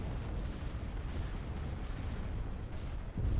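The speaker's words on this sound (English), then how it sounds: "Ion cannon firing." An ion cannon firing in a Star Wars strategy game, heavy low booms and rumbling blasts rolling continuously with a few sharper bursts, loud and dense across the stretch.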